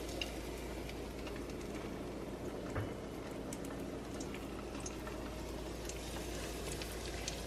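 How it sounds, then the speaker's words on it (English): Breaded milanesa meat fries in a frying pan, a steady dense sizzle with bubbling crackle that holds at an even level throughout, close and alone with no talk. "now my meat is completely breaded. And now I'm gonna throw it in the frying pan."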